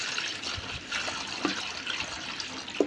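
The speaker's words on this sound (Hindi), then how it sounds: "अब इनको डालते हैं पानी" Water being poured for a turtle: a soft, continuous splashing trickle with a few small plops, moderately close, over faint background noise.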